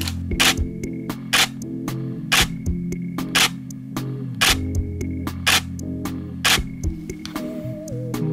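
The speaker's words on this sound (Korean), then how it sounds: "D780의 셔터 소리도 한번 듣고 가겠습니다. 먼저 뷰파인더 촬영 시의 셔터 소리입니다." A Nikon D780 DSLR fires its shutter through the optical viewfinder, with a mirror slap on each release, sharp mechanical clacks repeating in quick irregular bursts over a quiet room hum.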